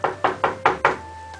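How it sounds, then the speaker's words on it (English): Five firm knocks on a wooden door come in a steady, evenly spaced rhythm, close by and moderately loud, with a faint low hum beneath and no talking. "Hark! More knocking!"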